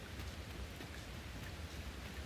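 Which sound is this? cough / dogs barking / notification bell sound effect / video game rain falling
video game rain falling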